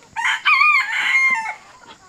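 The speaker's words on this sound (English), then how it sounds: "That is the boy guinea." A male guinea fowl calls outdoors in one loud, harsh, raspy burst of squawking notes lasting about a second and a half, close to the microphone, with no talking.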